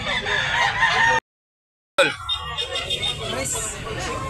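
A gamefowl rooster crows loudly nearby at a gamefowl sale in Tabunok, Cebu, then after a brief cut clucking and other poultry sounds continue with a faint murmur of voices in the background.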